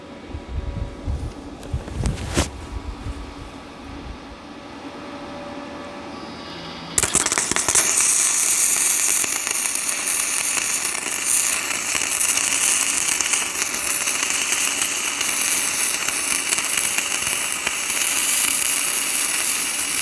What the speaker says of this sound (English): gonna try my hand at this welding